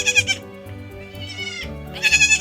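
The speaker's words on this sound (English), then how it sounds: "Baby goats are the cutest things ever." Baby goats bleat on a homestead in a run of loud, wavering calls, several overlapping cries near the start and end with a softer stretch of bleating in between, close and clear with no talk.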